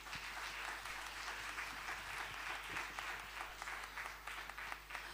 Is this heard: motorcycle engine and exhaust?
no